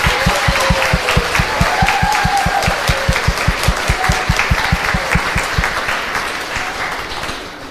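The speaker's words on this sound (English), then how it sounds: "Let's give them a round of applause." A hall full of people at a 5th grade promotion ceremony claps steadily in a loud, sustained round of applause that tapers off near the end, with a few voices calling out.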